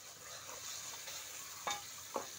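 Tomatoes stirred into vegetarian ghugni in a pan give a faint, steady sizzle, with two light spoon clinks near the end and no talking.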